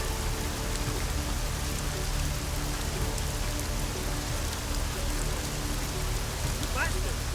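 Steady rain pours down in Deus Ex: Mankind Divided, a dense, even hiss of drops that fills the whole stretch with no break.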